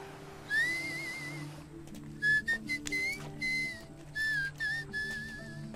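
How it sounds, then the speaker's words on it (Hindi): A person whistles a clear, high, wavering tune without moving the mouth, in short bursts and held notes over a quiet, low background hum from a Hindi film scene. "आप बिना मुंह हिलाए सीटी कैसे बजाते हो?"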